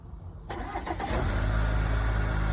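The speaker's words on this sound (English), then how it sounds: "We're going to do a cold start with a remote start." Chevrolet Silverado truck with a 2.7L engine cold-started by remote on a cold day, the starter cranking briefly before the engine catches and settles into a steady, loud, close idle.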